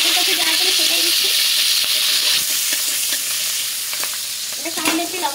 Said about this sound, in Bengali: পেঁয়াজটা একটু হালকা করে ভেজে নিয়েছি।